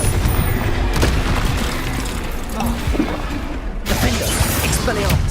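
A Confringo explosion spell in Hogwarts Legacy gameplay, deep booming bursts with a sharp crackling blast near the end, set against busy game combat noise and a voice speaking.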